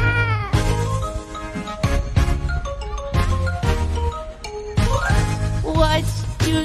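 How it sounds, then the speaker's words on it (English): A cartoonish cat meows in a cheerful children's nursery rhyme about animal sounds, three sung meows over a bouncy backing track of piano, bass and percussion. "I see a cat. Meow, meow, meow."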